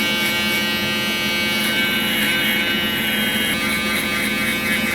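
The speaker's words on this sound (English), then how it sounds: "Let's use this, and I'm only gonna use one side of the shaver." An electric shaver buzzes steadily while shaving hair for a drop fade haircut, a constant close, loud motor hum with no pauses.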